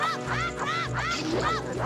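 Ice geese enemies in a Zelda video game honk in a repeated, nasal rhythm, about four calls in quick succession, steady and continuous with no talking over them.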